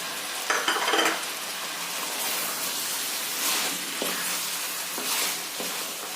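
Chicken pieces are stirred and fried with spices in a pan for a red curry. A soft, continuous sizzle carries scraping, stirring strokes and a few clinks of a utensil.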